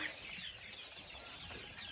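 Chickens cluck faintly at a poultry farm in Chom Thong district, Thailand, amid steady broadband farmyard noise, with no distinct close calls standing out.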